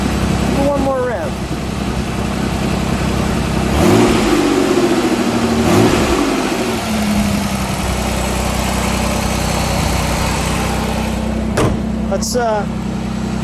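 A 1985 Pontiac Fiero SE engine idles with a steady low rumble, rising in a couple of revs near the middle before settling back to idle; someone speaks briefly over it.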